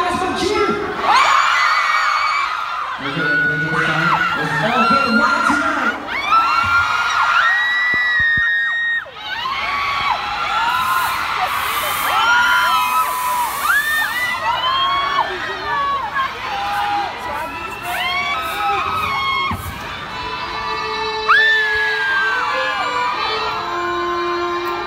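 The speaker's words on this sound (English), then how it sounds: "gusto ko malakasan yung cheer nyo" A fan meet crowd cheers and screams loudly and continuously, dense shouting and whoops filling the space throughout.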